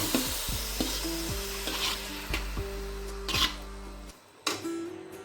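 Grated coconut mixed with jaggery is stirred in a wok over a medium gas flame for narkel naru, giving a steady low scraping and soft sizzle, with repeated stirring strokes up close.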